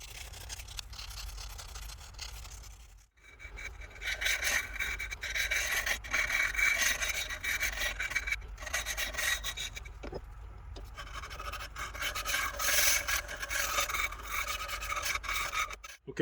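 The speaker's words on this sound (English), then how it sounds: "Okay, so most of the sanding's done." A carved wooden fishing lure being sanded by hand, a continuous close scratchy rasp of abrasive on wood in steady back-and-forth strokes with two brief pauses, no talking.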